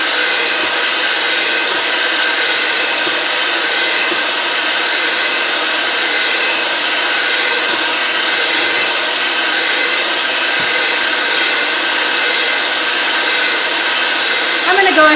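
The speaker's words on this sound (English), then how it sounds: "Now I'm going to beat these into a stiff peaks." An electric hand mixer whirs loud and steady, beating egg whites into stiff peaks without letup, a continuous high motor whine with no speech over it.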